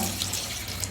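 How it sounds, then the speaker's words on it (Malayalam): A steady stream of water pours into a cooking pot of ash gourd curry, a continuous splashing rush with no voices. "അതിലേക്ക് ആവശ്യത്തിനുള്ള വെള്ളം നമുക്ക് ഒഴിച്ചു കൊടുക്കാം"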